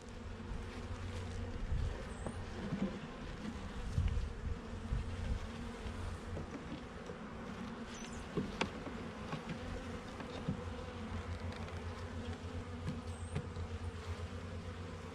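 A healthy, populous colony of honeybees drones steadily around an opened hive during a spring split, a continuous low buzz with occasional brief clatters of equipment and no voices.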